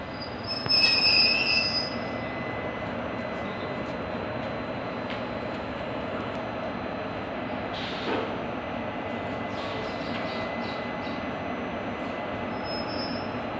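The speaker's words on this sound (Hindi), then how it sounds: "पुश करने के लिए, पीछे से धकेलने के लिए इंजन लाया जा रहा है।" Kalka Shatabdi Express train with a banking engine pushing from behind: continuous rolling rumble of rail wheels with high squeals and faint clattering, steady and fairly close throughout.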